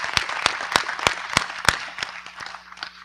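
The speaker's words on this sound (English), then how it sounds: "I think they deserve a big round of applause." Audience applause closing a day at a global biodiversity summit: a few loud, separate claps spaced out over about three seconds, thinning toward the end, with no talk over them.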